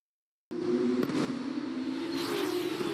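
F2 race cars drone steadily through a race at Abu Dhabi in the F1 23 video game, a continuous engine hum starting abruptly after silence, with a faint higher whine joining later.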